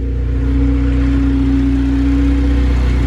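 A Honda K20A2 engine swapped into a CRX idles steadily at about 900 rpm with no idle control valve, a loud, close, continuous low rumble with no talking.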